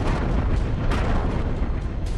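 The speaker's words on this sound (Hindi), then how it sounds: "टारगेट धमाका।" An airstrike explosion on a target in Gaza, heard as a heavy continuous roaring blast with deep low-end rumble and bursts of debris noise, loud and sustained throughout.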